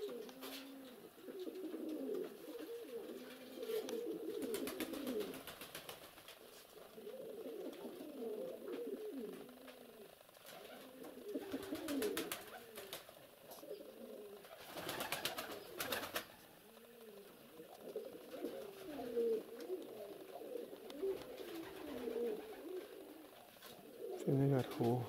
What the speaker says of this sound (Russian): Около 30 примерно голубей.